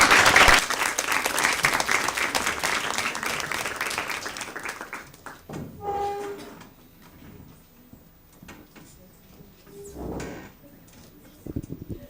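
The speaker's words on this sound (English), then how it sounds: "Give a huge round of applause." An audience at a university open day bursts into loud, dense applause that thins and fades out after about five seconds, followed by quiet room noise, a few knocks and shuffles.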